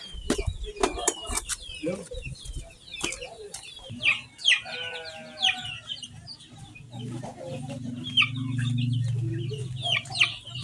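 Pelung chicken in a farmyard, clucking and rising crowing calls near and distinct, with chirps of other birds, scuffling, and people talking over and around it.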